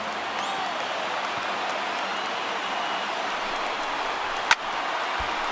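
A baseball stadium crowd of around 35,000 people cheers and applauds as a steady, distant roar, with one sharp knock near the end.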